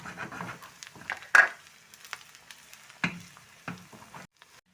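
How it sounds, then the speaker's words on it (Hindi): Green chillies drop into hot oil for a tadka in a leftover-chicken haleem recipe, giving short bursts of crackling sizzle and spatters, with a louder pop near the start and another later, then quiet. "अब हम अपने डालने लगे हैं तड़के के अंदर हरी मिर्चें।"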